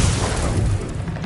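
An Incendio fire spell bursts in Hogwarts Legacy with a single deep, rumbling whoosh of flame, loud and close, fading over about a second.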